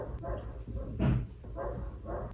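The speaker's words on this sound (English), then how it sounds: "our dog won't stop barking" A pet dog barks in a few loud bursts spaced through the moment, close by indoors, with no talk over it.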